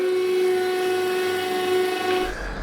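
A truck pump gives a steady mechanical whine with a high whistling tone, droning continuously up close, then dropping away near the end.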